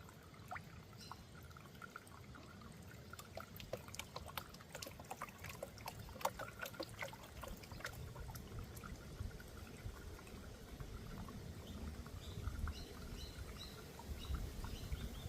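Creek water pours and trickles steadily as a gold pan is back-panned over the rear edge where there are no riffles, quiet and close, with scattered bird calls in the background.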